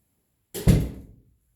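A newly built linen press cupboard door swings shut in a house renovation, one solid wooden thunk, close and fairly loud, ringing out briefly in a quiet room.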